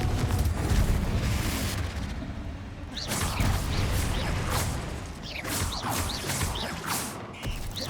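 Repeated magical blasts and crackling bursts from the Confringo fire spell in Hogwarts Legacy, loud and dense over a rumbling game soundtrack, with whooshing impacts arriving in quick succession through the second half.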